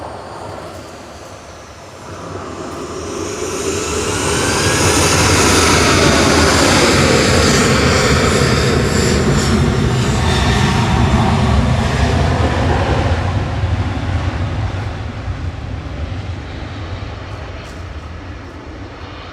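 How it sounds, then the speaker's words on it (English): A Boeing 737-800 jet taking off from Manchester Airport for Salzburg roars as it passes, rising to a loud broad rush that holds for several seconds and then slowly fades. "Two off to Salzburg, 737-800, GFDZY, flight 2688."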